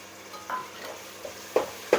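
Onion and tomato paste fry in a pan for spicy fish kuzhambu, a faint sizzle beneath a few scraping strokes of a spoon against the metal, the last two louder and closer.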